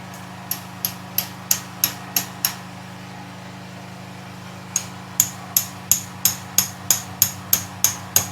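Rapid metallic taps drive a valve stem oil seal onto a valve of an Opel CIH engine with the cylinder head still fitted: two close, sharp bursts of about seven and eleven even blows each, separated by a pause, over a low steady hum.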